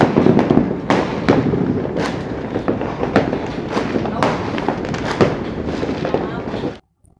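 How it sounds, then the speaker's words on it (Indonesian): New Year fireworks burst in a rapid, irregular series of loud cracks and pops over a dense rumbling crackle, ending abruptly in silence. "Anda mendengar suara kembang api di mana?"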